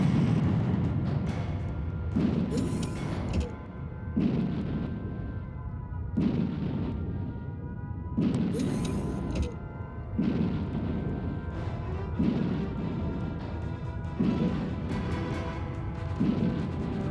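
Heavy guns firing in the combat game WarHawk: deep booming blasts repeating about every two seconds, loud and close, each with a rumbling tail and no talking.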